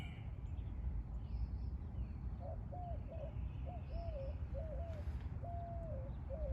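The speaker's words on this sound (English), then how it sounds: "Can you hear that owl?" An owl in a backyard gives a series of about six soft, low hoots, far off and faint against constant outdoor background noise.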